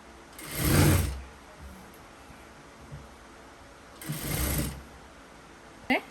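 A sewing machine stitches fabric for a festive outfit in two bursts of whirring about three seconds apart, with a short click at the end and no talk.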